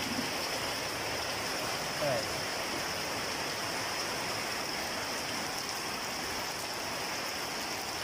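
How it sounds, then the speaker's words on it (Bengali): Heavy rain pours steadily in a rural courtyard strewn with wood and tin sheets during house construction, a dense, unbroken hiss that fills the whole stretch with no voices. "প্রচণ্ড বৃষ্টি হইতেছে।"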